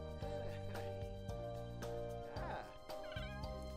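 Cat meowing in The Sims 4 Cats and Dogs while a player breeds kittens, several short meows rising over steady game music, fairly close and clear.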